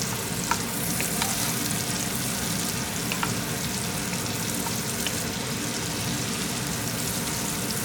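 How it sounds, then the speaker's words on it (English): Green peppers and other vegetables sizzle loudly in a pan of bacon and garlic, a dense, steady crackle with occasional scraping stirs, close and continuous. "then I can start adding the green peppers and all the other stuff. Mix that out."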